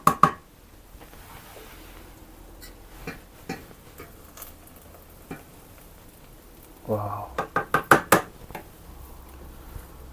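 A spoon stirs chicken dum biryani with basmati rice in a pot, producing sparse taps and scrapes, then a quick run of sharp knocks against the metal near the end.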